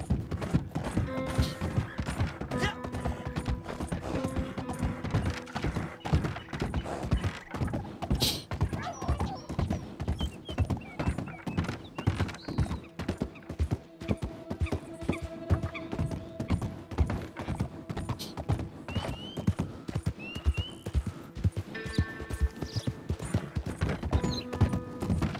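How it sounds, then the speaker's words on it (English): Rapid, steady hoofbeats of a galloping horse in Red Dead Online pound on without pause, with faint ambient game sounds and an occasional distant snort behind them. "Let a horse stretch his legs and give him some running."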